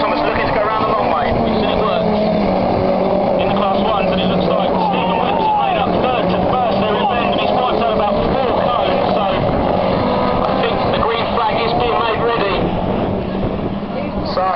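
Autograss racing cars on a grass track at Invicta, Kent, their engines droning loudly and continuously throughout, with a commentator talking over the steady roar.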